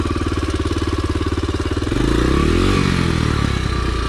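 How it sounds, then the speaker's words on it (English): A dirt bike engine heard through its muffler, with rapid even popping at idle that swells at about two seconds into a louder, smoother rev. "I'm just trying to tell you what the sounds of the muffler mean."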